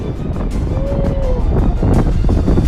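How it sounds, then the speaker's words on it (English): Strong storm wind gusts across a beach, a loud continuous buffeting roar battering the microphone without a break. "the strongest gusts of wind forced holidaymakers on the beach to flee and seek shelter"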